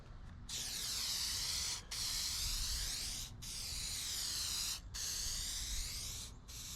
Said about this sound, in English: Now I'm gonna spray the back of the EVA here.